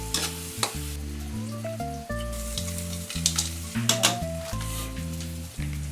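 Onions and chili frying in a pan make a loud, close sizzle that runs on continuously, with occasional stirring clatter and small clinks scattered through it.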